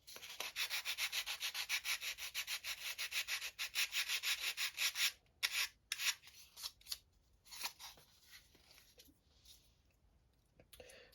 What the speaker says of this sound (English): I'll take my medium grade sandpaper and I'm just going to use it just to go over and round the edges off.